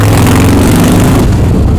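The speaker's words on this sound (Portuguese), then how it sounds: "Essa arrancada, uma moto de 250 faz. Eu tô a 30 por hora. Eu puxei de 30 para 60 em 1 segundo" Loud, close engine roar of a 250cc motorcycle accelerating hard from 30 to 60 km/h, a brief sustained rising pull that eases off near the end.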